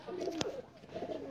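A male Teddy pigeon gives soft, throaty coos close by, two short rolling phrases separated by a brief sharp click.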